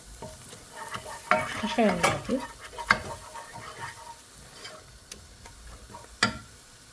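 Ground spices frying in a pan with coriander, stirred with a utensil, giving a soft sizzle broken by scraping strokes and sharp clinks against the pan at irregular intervals.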